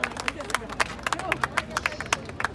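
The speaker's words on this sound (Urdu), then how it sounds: "آپ کی بھرپور تالیوں میں" Scattered clapping from an audience at a gathering of overseas Pakistanis, uneven and fairly thin, with crowd murmur and voices underneath.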